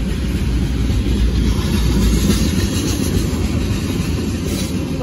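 A train slows as it rolls past the Williams Ave railroad crossing in Madison, Tennessee. Its cars rumble loudly and steadily up close, with faint clattering.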